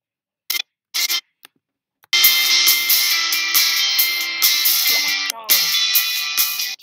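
The iMovie "Bright" theme music effect opens with a few short, sharp clicks, then a bright, shimmering layered tone sets in and pulses rhythmically, close and clear with no talking.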